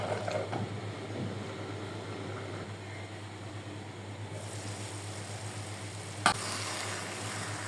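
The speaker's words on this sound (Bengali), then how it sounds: "আবারও একটু নেড়ে দিলাম যাতে নিচে লেগে না যায়।" A spoon stirs chicken bhuna khichuri in a pot, making a soft, steady scraping and faint sizzle under a constant background hum, with one sharp clink near the end.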